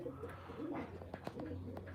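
Kept pigeons coo softly, low rolling calls repeating a few times against a murmuring background.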